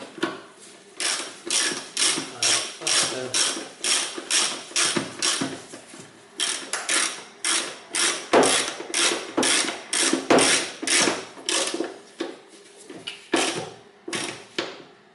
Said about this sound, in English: I need to then fasten these bolts in 10mm socket.